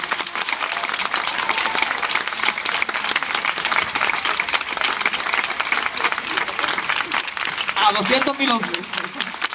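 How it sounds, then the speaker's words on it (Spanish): Audience applause for a retiring priest at a farewell ceremony in Algeciras, a dense sustained clapping from a large crowd filling the whole stretch, with a voice speaking over it near the end. "Un fuerte aplauso para este gran cura."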